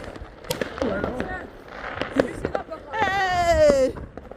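New Year fireworks bursting at a celebration in Rio de Janeiro, a string of loud pops and bangs with crackling and a rising whistle, while people talk and cheer nearby.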